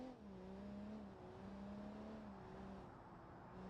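A BMW car engine drives steadily in the BeamNG driving simulator, a sustained droning hum with gently shifting pitch as the car cruises, close and continuous with no talk.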